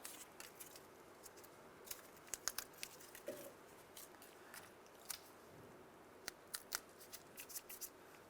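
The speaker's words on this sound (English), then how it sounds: "go ahead and peel the paper off the back" Adhesive backing paper being peeled off a new gasket for an HVAC blower motor in a 1992-1996 Ford F-150, heard as faint, sparse crinkling and tearing crackles in a quiet room.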